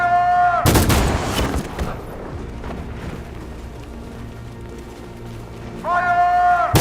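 Gunfire in the Detroit: Become Human video game: a loud burst of shots with a long rumbling tail, fading under a steady background drone, then another loud burst starting at the end.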